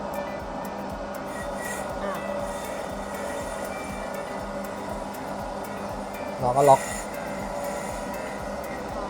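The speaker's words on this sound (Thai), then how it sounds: "นี่เราก็หมุนตัวนี้นะครับ ให้ให้ใบมีดมันกินจานนะครับหมุนตัวนี้" A steady mechanical hum and grinding drone of a C9450 brake disc lathe, its blade cutting a brake disc, with a brief louder scrape near the end and a short spoken phrase.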